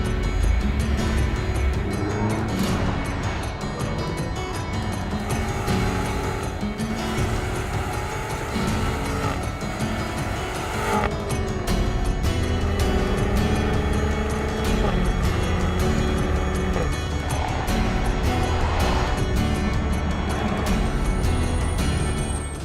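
A 2016 BMW X6 M SUV races at speed on a race track with a loud, sustained engine roar, revs climbing and dropping through gear changes, wind and road noise throughout.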